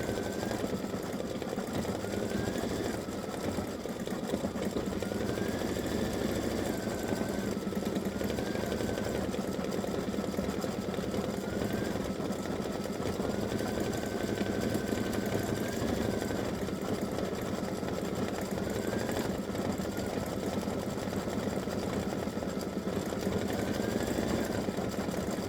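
An embroidery machine stitches text onto a Halloween cowboy ghost patch, giving a steady, fast mechanical whirring and clatter that runs unbroken and fairly loud throughout.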